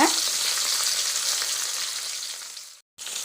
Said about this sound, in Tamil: இப்போ எண்ணெயில் லேசாக நல்லா ஃப்ரை ஆகிட்டுங்க.